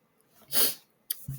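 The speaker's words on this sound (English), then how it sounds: "I rarely sneeze." A single short sneeze bursts out, followed by a couple of faint breathy sounds and small rustles.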